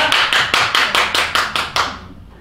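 Audience at a Korean gospel praise concert claps in unison, about eight sharp, evenly spaced beats in quick rhythm that stop abruptly after two seconds.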